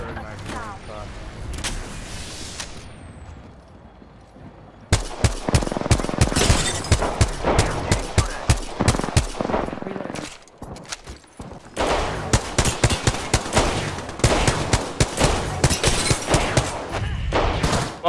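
Dense bursts of rapid automatic gunfire from a team firing in Apex Legends, loud sharp volleys that pause briefly and resume, with a voice talking over parts of it.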